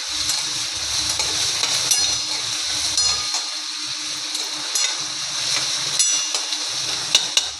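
Curry leaves, onion and garlic frying in a pan on high heat for an eggplant bharit, a steady close sizzle with occasional spatula clinks and light scraping.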